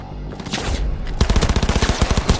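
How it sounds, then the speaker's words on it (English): Gunfire in Cyberpunk 2077: scattered shots give way to a rapid, sustained automatic burst of evenly spaced, loud, close reports. "Keep firing, goddammit! I need a little bit of covering fire."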